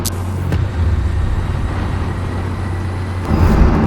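A Mazda MX-5 Miata being driven, giving a steady low engine drone with road and wind noise from inside the cabin, fairly loud and continuous with a slight swell near the end, no talk.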